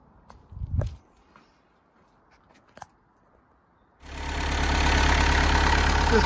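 A 1997 VW Caddy mk2 pickup under restoration starts up after a few quiet footsteps and knocks, then settles into a loud, steady, close idle that runs to the end.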